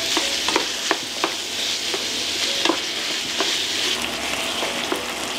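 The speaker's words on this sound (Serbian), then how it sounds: "dodat ću 700 g mlevenog svinjskog mesa i pržit ću dok meso isto ne bude gotovo" 700 g of minced pork sizzles loudly in a pan with already-fried onion while a utensil scrapes and stirs it in repeated, regular strokes over a constant frying hiss.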